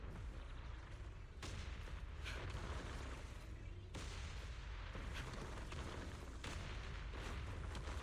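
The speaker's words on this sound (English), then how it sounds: "Move in during the gaps between explosions." Video game explosions from Zenless Zone Zero form a dense, steady roar of booms and blasts, with several sharper bursts standing out against a constant loud rumble.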